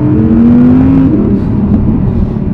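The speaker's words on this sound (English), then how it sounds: "you still get great V10 noise over your head" A 2021 Audi R8 rear-wheel-drive V10 sports car engine revs loudly from close by, a steady rising drone for about a second that then settles into a sustained rumbling hum.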